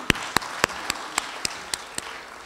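A brief round of applause from colleagues at an academic curriculum forum: a handful of distinct, evenly spaced claps that thin out and fade over a couple of seconds.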